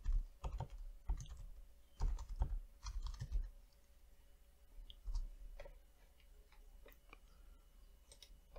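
Someone types a tcpdump command on a computer keyboard, with clusters of quiet key clicks separated by pauses, close but soft against a low background hum.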